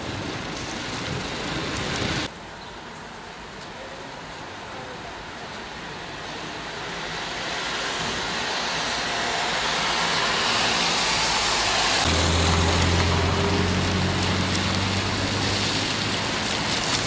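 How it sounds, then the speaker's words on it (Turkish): Steady rain falls across Konya during a morning of mixed snow and rain, a broad continuous hiss that swells louder partway through, with a low hum entering near the end and no voices. "Bugün Konya ve ilçelerinde sabah saatlerinde kar yağışı ve yağmur etkili oldu."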